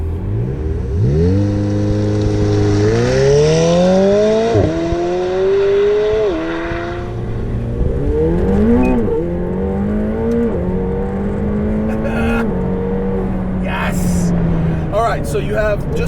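A McLaren 720S engine revs hard through several gears, pitch climbing and dropping with each shift, loud and close, with some talk mixed in.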